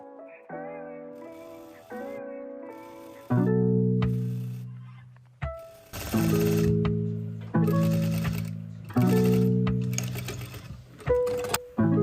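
A sewing machine stitches the sides of a dress vent in a continuous seam, heard as several separate bursts of whirring mechanical hum with clicks and a short pause between runs, close and clear.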